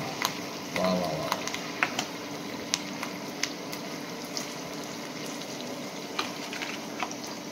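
Chicken pieces dropped into hot oil with curry leaves for a Marathi-style chicken fry, giving a steady crackling sizzle with sharp pops throughout, close and moderately loud, with no voices over it.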